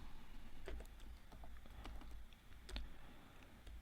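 Soft, irregular clicks of a computer keyboard while code is typed, fairly quiet and close, with uneven keystroke rhythm over a faint background hiss.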